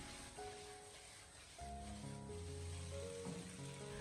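King oyster mushrooms and shredded pork sizzle in a hot wok as they are tossed together, a soft continuous frying crackle with a few clanks of the spatula and a brief louder surge midway.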